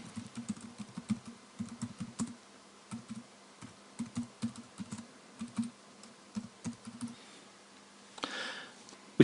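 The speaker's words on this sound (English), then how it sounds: "So I'll type that in." Someone types on a computer keyboard while entering text into an audit form for dental practice, producing quick, irregular clusters of soft key clicks, close and quiet, with no talking.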